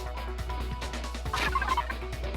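Video game chicken sound effect: a burst of fowl-like clucking and gobbling calls over a low steady hum, rising briefly in the middle of the clip, with no voices.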